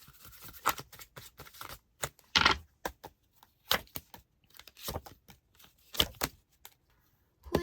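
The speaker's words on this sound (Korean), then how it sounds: "상대방분들이 정갈분들에게 전하고 싶은 메시지 카드 뽑아볼게요" Tarot cards being shuffled and drawn by hand, a run of crisp, quick card flicks and riffling snaps in irregular bursts, fairly close and alone with no talk.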